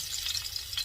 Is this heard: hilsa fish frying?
yes